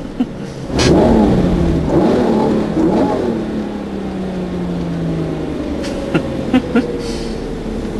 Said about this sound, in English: Just for that noise when you blip the throttle.